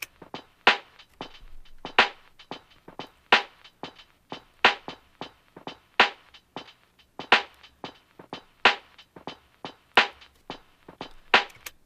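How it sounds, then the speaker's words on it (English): A drum beat processed through the isolator effect of an SP sampler, sounding thinner with subdued lows: a steady, fairly quiet groove of crisp snappy hits repeats throughout, with no voices. "So it gets processed once through the SP using that isolator effect."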